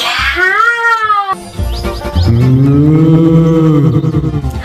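A cartoon cow from a pretend farm animals animation lets out a sustained, resonant moo near the microphone, preceded by a brief rising tone and continuing steadily to the end.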